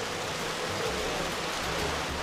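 Steady rain pours down as a dense, even hiss with no breaks, close and fairly loud throughout a short stretch.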